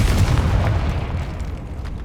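A Confringo fire spell bursts in Hogwarts Legacy: a loud, close blast with a rumbling, crackling tail that fades over about two seconds, with no talk.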